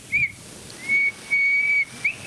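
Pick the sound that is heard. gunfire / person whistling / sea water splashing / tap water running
person whistling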